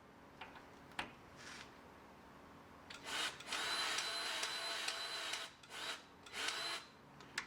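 Hand grease gun pumping grease into the inner and outer tie rod ends of a 2001 Chevrolet Suburban: faint clicks, then several soft, hissing squirts in uneven bursts against quiet garage background. No one speaks.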